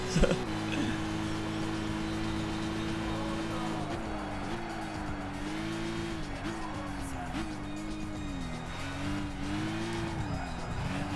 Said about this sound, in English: I might as well pick that GT by Citroen race car.